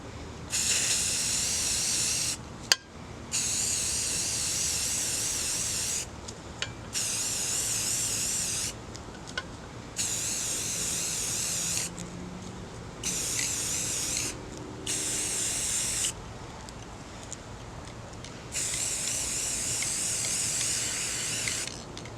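Rust-Oleum candy pink gloss spray paint sprayed onto a tumbler in a series of bursts, each a steady airy hiss of a few seconds, separated by short pauses.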